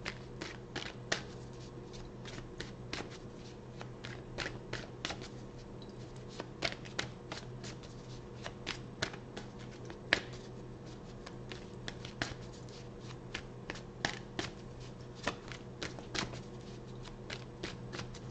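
Tarot cards being shuffled by hand up close, with repeated crisp riffling bursts and soft taps in an irregular rhythm over a low steady background hum.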